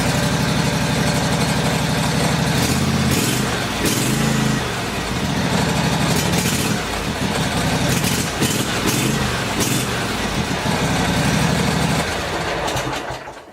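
A small Toro lawn mower engine sputters to life with choke on and settles into a steady, loud chugging idle, running on without any talk.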